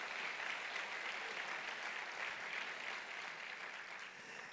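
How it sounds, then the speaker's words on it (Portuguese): A congregation at a church family conference applauds, a dense, even wash of clapping heard somewhat distant and quiet, tapering slightly toward the end. "Eu vou pedir para você aplaudir ao Senhor"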